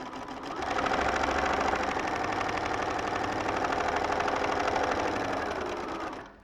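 A sewing machine runs steadily for about six seconds, stitching small pieces of fabric with a fast, even mechanical whir and rapid needle clatter, close and loud with no talking.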